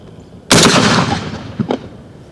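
A Panzer EGX500 shotgun fires a single Winchester 1 oz rifled slug, one loud close blast with a long rumbling decay, followed by a faint mechanical clack.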